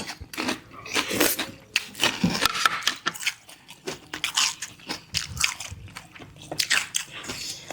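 Crunchy pork crackling sprinkled over a spicy Thai cockle salad being bitten and chewed close to the microphone, a rapid series of loud crisp crunches and squishy chewing, no talking.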